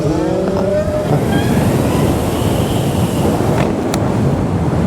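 Zero SRF electric motorcycle accelerating hard in sport mode at around 75, a dense, loud wind-and-road roar with a faint rising electric whine, close and continuous.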